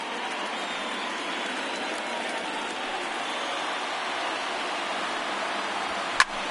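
A large ballpark crowd of over 39,000 roars in the MLB The Show 19 baseball video game, a dense, steady wash of cheering held at even level, with one brief sharp knock near the end.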